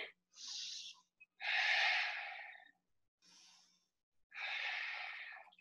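Breathing during a yoga class while holding boat pose: four slow, audible breaths, alternating airy inhales and exhales with short pauses between, close and fairly quiet.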